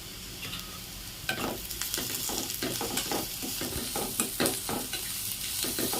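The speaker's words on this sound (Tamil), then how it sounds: "இந்த வெஜிடபிள்ஸ்லாம் போட்டு நல்லா வதக்கிக்கோங்க" Vegetables for an egg and veg samosa filling sautéing in a pan, a continuous close sizzle broken by frequent scraping stir strokes at an uneven pace, with no talking.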